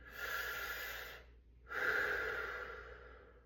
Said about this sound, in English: together we're going to breathe in through the mouth, out through the mouth